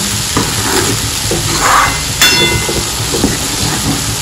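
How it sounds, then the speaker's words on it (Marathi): Masala sizzles loudly in hot oil for butter chicken, a dense crackling hiss with bursts of steam and occasional stirring scrapes, close and continuous. "मसाला चांगला भाजतोय आपला।"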